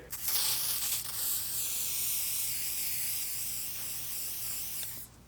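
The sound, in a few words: spraying WD-40 aerosol can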